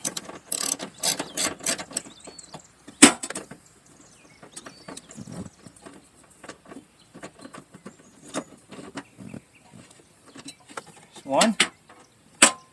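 A hand ratchet works on 12 mm bolts holding the rear seat of a 2010-2015 Toyota Prius, giving several bursts of close, quick clicking with gaps of quieter handling between them.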